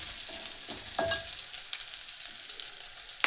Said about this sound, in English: I'm cooking the 4 eggs. So the 4 eggs, this is how you break them.